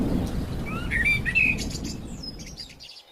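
Bird chirping in a Hindi cartoon, a crow imitating another bird's call: a string of bright rising chirps and whistles over a steady rumbling background, ending in a quieter trill.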